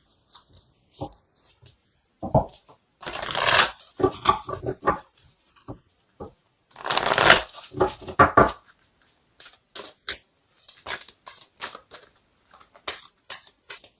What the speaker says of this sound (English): let's go ahead and get an oracle card here to confirm this